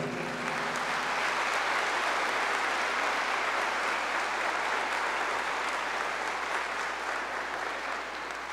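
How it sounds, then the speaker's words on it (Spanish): Audience at a municipal government report ceremony in Acajete, Puebla, breaking into strong, sustained applause that stays loud and dense throughout, many hands clapping together with no speech over it. "Fuerte ese aplauso."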